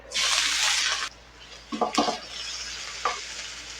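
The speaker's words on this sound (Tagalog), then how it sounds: "Lagyan natin ang alugbati." Alugbati (Malabar spinach) dropped into a hot pan: a loud burst of sizzling for about a second, then quieter frying with a few clattering stirs and scrapes from the utensil.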